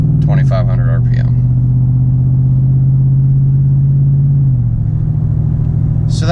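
A 2016 Ford F-150 XLT engine in sport mode holds a loud, steady drone near 2,500 RPM in third gear, then drops in pitch as the transmission shifts near the end, with a brief voice at the start.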